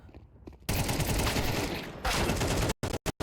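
A Counter-Strike esports match on Mirage, with loud, dense rifle gunfire in rapid bursts that ends in a few sharp, clipped shots.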